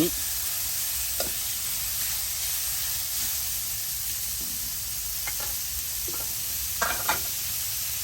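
Sliced pork stir-frying with garlic in hot oil, a steady close sizzle and hiss running throughout with occasional light scrapes of a spatula against the pan, no talk.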